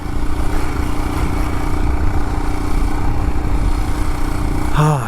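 A Royal Enfield Himalayan motorcycle engine drones steadily while riding, loud and close, a constant mid-pitched hum with a brief rising whine at the very end.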